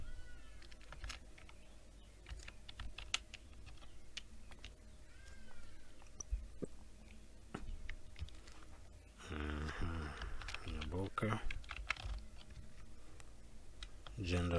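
Scattered, close keystrokes and clicks on a computer keyboard while data is entered into an Excel form, with a person talking over part of it.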